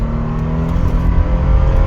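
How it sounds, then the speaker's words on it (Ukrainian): A 2020 Toyota Land Cruiser Prado 150 4.0 automatic engine revs and pulls hard as the SUV accelerates from zero to 100 km/h, a steady loud roar climbing with no talking. "Розганяється цей Прадо від нуля до сотні."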